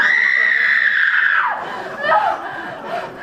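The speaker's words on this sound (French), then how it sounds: "Oh chérie, arrête de crier!" A woman screams a long, loud, sustained high cry during a comic improv scene about falling from a damaged balloon, the scream trailing off and breaking into shorter wavering yelps, with faint laughter behind.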